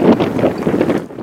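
Strong blizzard wind roars and buffets against the microphone in a brief, rough gust with a hollow, moaning edge, with snow blowing near Newport, Rhode Island.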